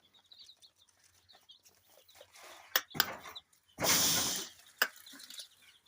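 About 300 three-day-old chicks in a lit brooder give scattered high peeping chirps, with brief bursts of flapping or scratching and a louder rushing rustle in the middle, heard close with no talking.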